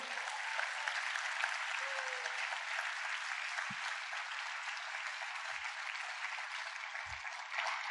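Church congregation applauding during a sermon, a sustained, fairly distant wash of many hands clapping at a constant level, with a few low thumps scattered through it.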